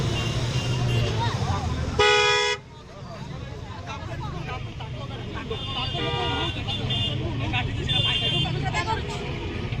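Car horn on a road, one sharp loud honk followed by repeated honks later, over traffic noise with people talking throughout.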